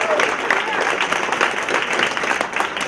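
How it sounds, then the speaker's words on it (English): A crowd applauds at the grand re-opening of a community center library, giving a dense, steady wash of many clapping hands, loud and sustained throughout. "let's get a round of applause to this beautiful library"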